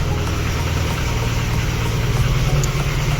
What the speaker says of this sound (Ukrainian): Бачите, двигун ще холодний.